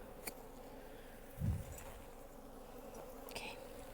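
Angry bees buzz around a rotting hive on a farm, a faint, steady insect drone with a brief closer swell as one passes near.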